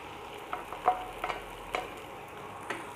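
Beaten eggs sizzle as they are added to green beans frying in a pan for a South Indian egg stir-fry, with soft scattered crackles and a few sharper spatula scrapes and taps from stirring.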